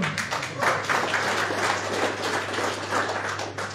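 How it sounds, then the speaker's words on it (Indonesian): Audience clapping at an anniversary religious study gathering, dense continuous applause from a crowd, moderately loud and steady for the whole stretch, with a low hum underneath. "Tepuk tangan dong."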